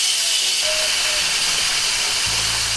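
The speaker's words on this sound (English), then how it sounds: "our pressure cooker is now done." Steam hissing steadily from a pressure cooker being vented after cooking breadfruit, a loud, continuous broadband rush that holds throughout, with a low rumble joining near the end.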